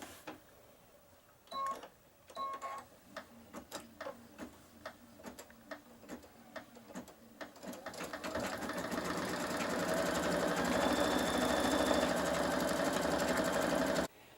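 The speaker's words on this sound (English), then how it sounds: "we're going to replace it to the machine, and we're going to do a tie down stitch" An embroidery sewing machine runs a tie down stitch while making wine glass coasters: a few slow ticks and isolated clacks at first, then a steady rapid mechanical whir and tapping builds and continues loudly to the end, no speech.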